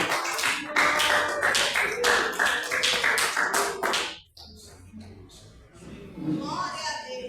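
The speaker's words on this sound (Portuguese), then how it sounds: "E as palmas bem alegres para Jesus" A church congregation claps for Jesus in a fast, regular rhythm of loud, close claps, with voices over it. The clapping stops abruptly partway through, leaving quieter speech.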